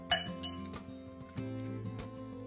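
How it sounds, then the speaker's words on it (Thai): A metal frying pan clinks and knocks a few times, set down on a stove with bright ringing taps against a hard surface, close and distinct. "ต่อไปเดี๋ยวเราไปตั้งกระทะเลยนะคะ"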